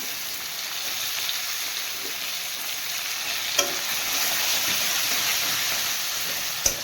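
Chopped onion, ginger and garlic frying in a pan, a steady close sizzle with a couple of sharp stirring clinks, no talking.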